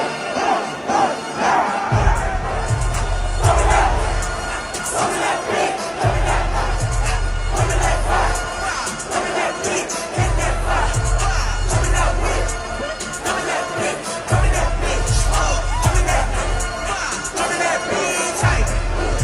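A played recording of a concert crowd forming a mosh pit at a show. Dense roaring crowd noise and shouts sit over heavy, pulsing bass that drops out and returns, loud and continuous throughout.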